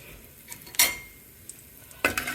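Asafoetida and tempering spices fry in hot oil for an amaranth stir-fry: a faint, quiet sizzle runs under two sharp metallic clinks of a spoon against the pan.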